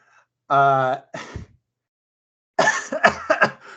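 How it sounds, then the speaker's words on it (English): A person coughs a few times close up, with a voiced, throaty start, a pause, then a burst of harsh rapid coughs. "I have a cold, so I apologize if I cough a bit."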